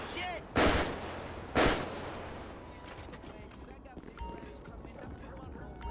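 Gunfire in GTA 5 with the LSPDFR police mod: two sharp, loud shots about a second apart, then fainter scattered pops, while someone talks over the scene.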